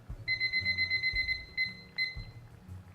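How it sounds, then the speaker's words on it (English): An old-school mechanical kitchen timer is wound by hand in a home kitchen while pasta cooks: quick, regular ratcheting clicks with a faint metallic ring, close and steady for a few seconds, with no talking. "Old school timer."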